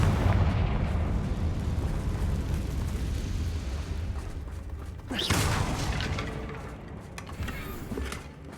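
A Confringo spell explosion in Hogwarts Legacy bursts with a deep rumbling boom partway through, over a loud, continuous low roar of game battle ambience.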